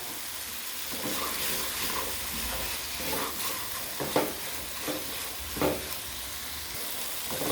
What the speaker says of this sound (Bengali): মশলাটাকে ভালো করে কষিয়ে নেব আর এইবার আর দিয়ে দেবো এই কাঁচা লঙ্কা চেরা